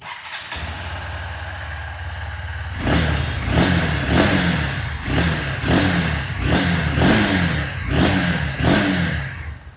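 A 2025 Honda Hornet 2.0 motorcycle engine self-starts, settles into an idle, then revs up repeatedly in about seven evenly spaced throttle blips.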